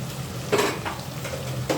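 Fresh ginger garlic paste frying in a pan, a soft sizzle under light stirring with a couple of brief spoon-against-pan clinks.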